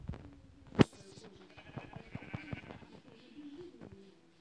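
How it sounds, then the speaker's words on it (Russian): A video game sheep gives one loud, sharp bleat, followed by quieter clicks and faint background game sounds. "А ведь овца."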